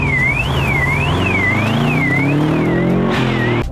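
A Nissan Pulsar GTiR and a Subaru Impreza drive rough, narrow roads on the Isle of Arran. A loud engine drone slowly climbs in pitch while a rhythmic warbling whine rises and falls over it.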